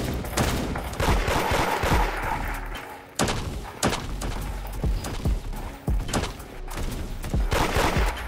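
Rapid bursts of gunfire from several guns during a player raid in the Roblox game Da Hood, with sharp shots overlapping in dense, uneven volleys at close range that continue almost without a break.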